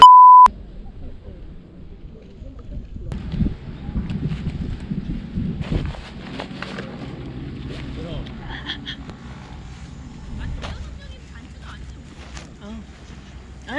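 A short, steady censor beep tone added in editing sounds at the very start, then gives way to wind and people talking outdoors during autumn backpacking on Jeju.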